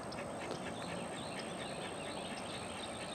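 Faint, distant quacks from a female duck come in a loose series over a constant outdoor hiss, with no voices.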